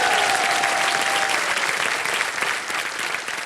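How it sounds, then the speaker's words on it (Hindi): A studio audience applauding a contestant on a KBC quiz show, a dense, sustained wash of clapping that stays loud and fades slightly near the end. "तालियां बज जाए इनके लिए।"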